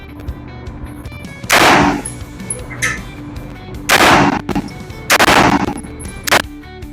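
Seven rounds test-fired from a UTAS UT9-M Mini shotgun fitted with a muzzle brake and suppressor, heard as loud separate blasts in irregular spacing with short pauses between shots.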